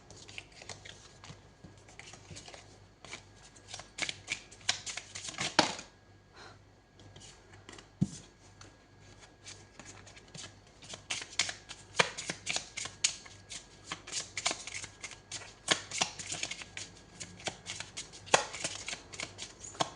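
A deck of cards is shuffled repeatedly during a tarot-style horoscope reading, with dense, close riffling and flicking bursts, a brief pause, then more vigorous continuous shuffling.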